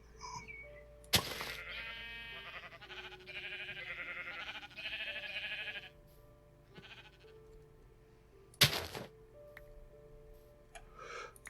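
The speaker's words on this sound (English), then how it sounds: "I thought that was a sheep coming to attack me." Sheep bleating in the video game SevTech Ages, two drawn-out wavering bleats over a steady game background hum, with short sharp clicks near the start and near the end.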